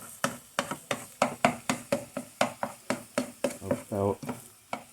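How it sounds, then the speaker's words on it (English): Scrambled eggs mixed with mayonnaise cooking in a frying pan, following a 1972 recipe: a rapid series of sharp spatula taps and scrapes against the pan over a soft sizzle, close and fairly quiet. "Alright, here, frying up."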